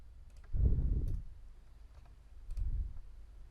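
A computer mouse button is clicked on a software execute button. Two soft, muffled clicks come about two seconds apart, close and quiet against faint room noise.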